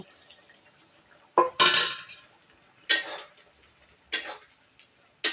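Fried potatoes and long beans stirred into spice gravy, a handful of separate clanks and scrapes of a spatula against the pan at irregular intervals over a quiet background, close and without talk.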